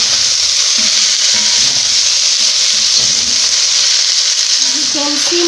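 Tomatoes cook in a pot for a Kenyan chicken stew, giving a loud, steady sizzle and bubbling hiss that runs unbroken, with faint low stirring or clinks underneath.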